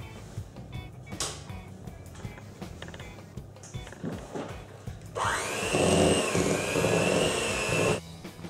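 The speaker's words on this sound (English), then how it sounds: "I'm now going to add 125 grams of butter and whisk with an electric whisk" An electric hand whisk beats butter into cream cheese icing, starting with quieter kitchen handling before the motor kicks in loud and steady for about three seconds, then cuts off.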